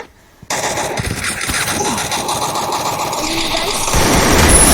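Rapid automatic gunfire in a shooting video game. The bursts are loud, dense and continuous, with game sounds beneath and a voice talking over them.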